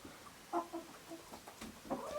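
Chickens in a farmhouse coop cluck in scattered low, throaty notes and short calls, near and fairly quiet over a soft hum, with no one speaking.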